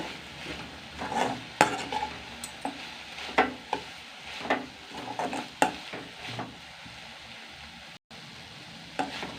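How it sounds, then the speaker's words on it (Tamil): A spoon stirs a drumstick-leaf stir-fry with grated coconut in a pan. Soft, repeated scrapes and knocks of utensil against metal come in an uneven rhythm over a faint, low sizzle, with no voices. "இப்போது தேங்காய் பூவை போட்டு கிண்டி விட்டுக்குறோம்."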